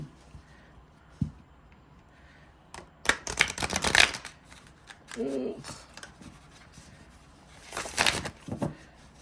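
A deck of oracle cards is riffled and shuffled in a few short, crisp bursts, separated by quiet pauses and soft handling noises.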